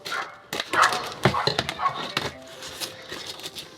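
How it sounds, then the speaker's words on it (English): Dogs bark in scattered, irregular yelps at a moderate distance, mixed with some faint talking and thumps. "The dogs are barking outside."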